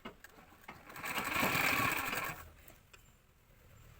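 A sewing machine stitching a hook onto a blouse whirs in one steady run of about a second, framed by faint clicks and quiet handling before and after.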